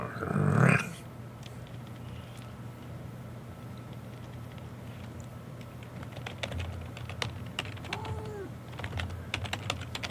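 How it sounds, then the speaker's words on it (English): Rapid clicking of typing on a computer keyboard runs steadily throughout, close and moderately loud, with a brief louder thump and a cat's meow-like call near the start and a faint low background hum. "Are you mad that I'm typing? I've been typing for almost 2 hours"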